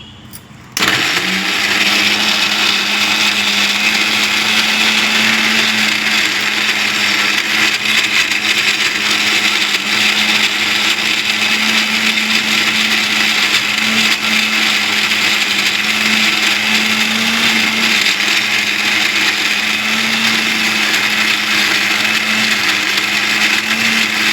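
A mixer grinder whirs loudly and steadily for over twenty seconds, grinding curry leaf pickle with tamarind, its motor starting with a short jolt and then running at a constant high pitch.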